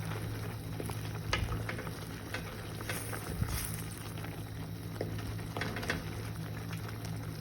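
A spiced mixture seasoned with ras el hanout is stirred in a hot pan, with a steady close sizzle of frying and scattered scrapes and knocks from the spoon, and no voices.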